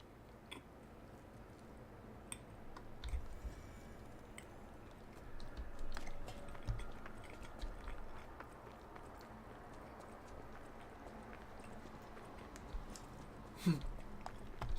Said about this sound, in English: Sorry if my chewing is too loud,